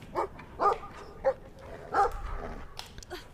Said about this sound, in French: Il est con ce chien.